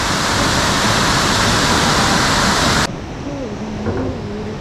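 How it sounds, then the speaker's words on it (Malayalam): A forest waterfall in Dzongu, Sikkim roars as steady, loud broadband rushing for about three seconds, then drops abruptly to a quieter, more distant wash of water with a voice faintly audible over it. "ഒരു വെള്ളച്ചാട്ടം കൂടി ഇതിനോട് ചേർന്നുണ്ട് കേട്ടോ"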